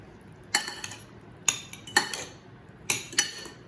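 Cutlery clinking against a bowl while swordfish tartare is mixed with salt and black pepper, four or five short clusters of scraping and tapping spaced apart, close and fairly quiet with no talking.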